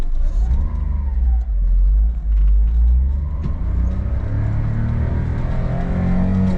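A Honda Street kei van drives toward the highway, its engine droning low and steady from inside the cabin, with a couple of brief dips as it shifts gears before settling into a continuous hum and road rumble.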